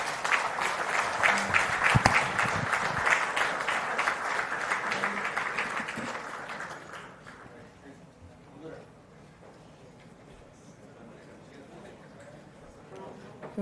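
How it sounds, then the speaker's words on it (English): An audience at a live event gives Chief Minister Revanth Reddy a welcoming round of applause, dense and loud clapping from a large crowd for about seven seconds, then fading to murmur and room noise. "Can I request you all to welcome him with a round of applause, please?"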